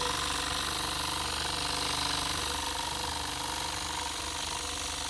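A small Stuart ST model steam engine, freshly serviced with a new O-ring and silver-soldered fittings, runs continuously with its exhaust sounding. It gives a steady, close, busy mechanical chuffing and hiss at an unchanging level throughout.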